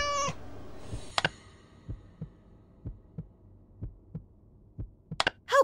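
Brief cat meows from the game Scary Teacher 3D at the start and end, with a steady soft thumping pulse running underneath in between.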